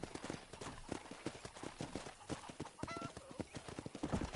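Horse hooves clip-clop steadily and close while herding cattle on a farm in Red Dead Redemption 2, a brisk irregular trot of sharp knocks continuing throughout without talk.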